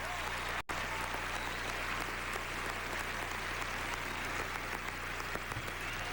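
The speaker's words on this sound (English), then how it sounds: "let's give a big round of applause" An audience at a country music awards show applauds a presenter, a steady, even wash of clapping at moderate distance with no voices over it.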